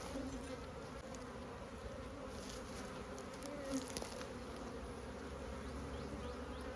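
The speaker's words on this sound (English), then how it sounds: "Good looking bees." Honey bees hum around 10-frame hive boxes during a nuc transfer, a steady soft drone of many insects close by, with a few louder passes as individual bees fly near.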